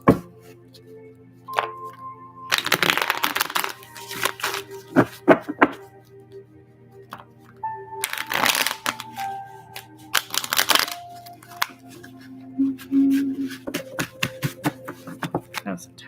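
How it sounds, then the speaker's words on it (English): A deck of tarot cards is shuffled by hand, close and crisp, in two main flurries of riffling and tapping separated by quieter pauses. "That was a tight shuffle."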